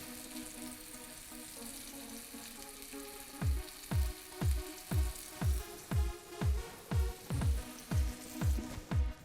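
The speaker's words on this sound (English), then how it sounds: "we're gonna brown it on both sides" Beef round steak browns in a pan under a continuous close sizzle, joined partway through by a regular series of low, thumping pulses, roughly two per second, with no talk.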